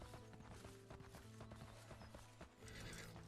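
Horse hooves clip-clop in the fantasy MMORPG Legend of YMIR, a steady rhythmic patter of game footsteps over a dense bed of music and ambient game sound.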